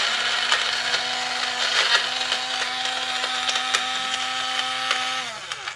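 Blender pulverizing cashews and garlic, a loud, steady motor whine with gritty crunching of the nuts, running evenly before winding down near the end.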